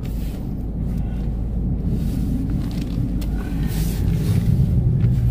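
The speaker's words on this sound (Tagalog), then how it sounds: "Sigurado ng tatakbo na yung sasakyan." A car engine idles steadily after being started in snowy Canadian winter cold, a low continuous rumble that swells slightly toward the end, with faint wind noise over the microphone.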